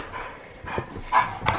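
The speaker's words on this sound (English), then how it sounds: "these dogs are losing their minds" Indoor dogs barking excitedly, a few short yips and barks in quick succession, moderately close, with no talking.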